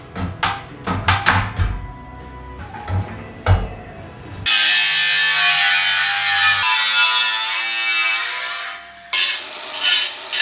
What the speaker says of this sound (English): I'll cut up all these steel bits and start welding them in